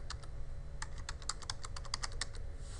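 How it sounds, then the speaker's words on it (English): Typing on a computer keyboard while setting up Windows 7 firewall settings: a quick run of light, crisp key clicks in an irregular rhythm, close and fairly quiet over a steady low hum. "Type in Firewall."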